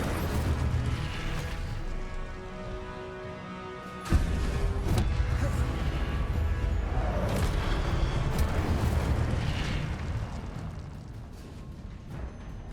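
The Incendio fire spell in Hogwarts Legacy goes off with a sudden burst and a sustained roaring rush over rumbling game ambience and mechanical clatter.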